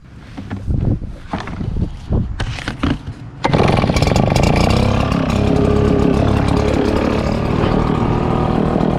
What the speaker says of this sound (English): Just low idle with a backpack blower like this.